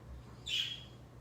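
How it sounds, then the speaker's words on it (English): A pet bird gives a single short, sharp squawk that sits alone over a low background hum, fairly close and moderately loud. "I hope you can hear me over Amor, the bird"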